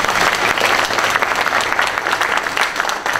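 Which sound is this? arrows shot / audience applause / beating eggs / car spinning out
audience applause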